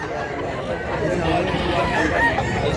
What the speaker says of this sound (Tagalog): Barato ra kayo pero gwapong manok.